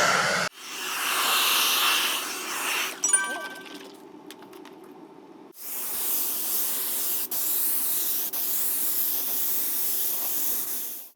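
Hissing spray of protective coating being applied to a dyed leather sofa cushion, in two long steady bursts separated by a brief pause with faint clinks, close and fairly loud.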